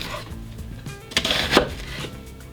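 A knife cuts the end off an onion on a cutting board, giving a couple of close, crisp chopping knocks over a soft background hiss.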